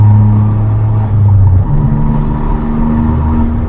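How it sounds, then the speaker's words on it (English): A Suzuki Alto Works runs close by with a loud, low exhaust rumble and induction noise. Its engine note holds steady, dips briefly, then resumes a steadier tone, with no talking. "I just love the noise it makes. It's brilliant. The exhaust noise, the induction"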